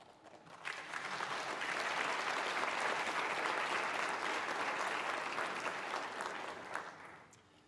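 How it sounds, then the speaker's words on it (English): A crowd at a fire and rescue awards ceremony gives a steady round of applause that swells quickly, holds for several seconds and then fades, fairly distant and moderately loud. "Let's have one more round of applause for all our recipients"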